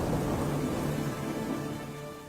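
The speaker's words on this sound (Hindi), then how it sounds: "एक दिन राज्य में बहुत बड़ा तूफान आया" A cartoon storm pours down as steady, dense rain with a low rumble of thunder, filling the scene loudly and evenly before easing slightly at the end.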